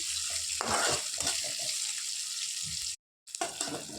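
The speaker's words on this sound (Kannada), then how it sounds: "ಕರಿಬೇವು ಹಾಕಿ ಫ್ರೈ ಮಾಡ್ಕೊಳ್ತೀನಿ" Green chillies and curry leaves frying in oil in a pan, a steady bright hiss and crackle with stirring scrapes, broken by a brief dropout near the end before the sizzle resumes.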